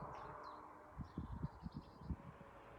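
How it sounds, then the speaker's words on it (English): Faint, distant birds twitter in short chirps by the River Ouse, partly masked by a steady outdoor hiss and low rustling thumps, with no talking. "Lovely, just the birds twittering."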